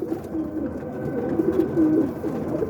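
Roller pigeons coo in a loft, soft repeated throaty murmurs overlapping at close range against a low background hum, with no talking.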